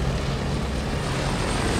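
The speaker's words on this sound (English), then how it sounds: "Get the planes in the air." Propeller warplanes launching into the air in a Battle of Midway setting, a steady dense engine drone that fills the short stretch without a break or any voices.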